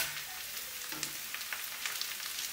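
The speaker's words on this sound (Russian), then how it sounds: "Лук жарим до золотистого цвета." Onion and beetroot fry in vegetable oil for Moscow-style borscht, a close, steady sizzle scattered with small crackles and pops, with no talk.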